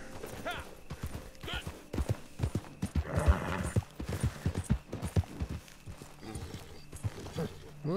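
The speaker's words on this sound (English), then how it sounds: "I do want to see what's going on with that horse over there." Rhythmic hoof clip-clops of a horse walking in the video game Red Dead, fairly close, with a voice talking over parts of it.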